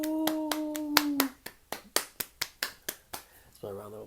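A single person claps hands in a steady run of about a dozen sharp, close claps, with a short voiced whoop at the start and another voice near the end.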